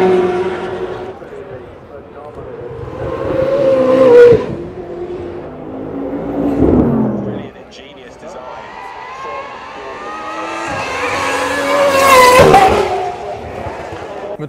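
Supercar exhausts roar and rev at a hillclimb paddock event, loud engine bursts rising and falling in waves with a sharp peak near the end, while people talk excitedly throughout.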